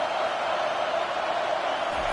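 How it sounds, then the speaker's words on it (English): Stadium crowd in a Madden football game, a steady, broad roar of cheering fans at constant volume throughout, with a broadcast voice talking over it. "This crowd knows when to bring it."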